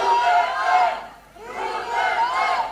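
A political rally crowd in the Philippines shouting and jeering in two loud swelling waves with a brief dip between, voices massed together with no single speaker.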